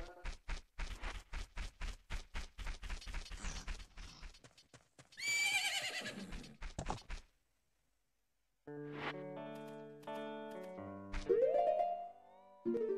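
A horse at Romani Ranch in the video game The Legend of Zelda: Majora's Mask: a steady run of clip-clopping hooves, then a loud whinny, followed by game music with no speech.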